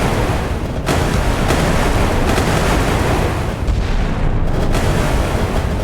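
Rapid-firing 40 mm naval guns in the Sea Power naval combat game, set in a 1970s clash between British Royal Navy and Italian Navy ships, pound out a dense, loud, continuous stream of booming reports with a few sharper cracks standing out.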